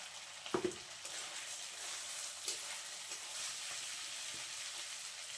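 Chickpeas frying and being stirred into chola bhuna, with a steady close sizzle, a few sharp scraping stirs near the start and another mid-way, and no talking.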